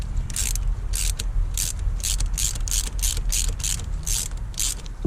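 A ratchet wrench clicks in repeated short bursts, about a dozen evenly spaced strokes, close and clear against a low background rumble while a Time-Sert thread insert is driven into a 2014 GMC Sierra truck; no talking.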